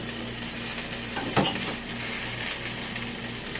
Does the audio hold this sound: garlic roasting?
yes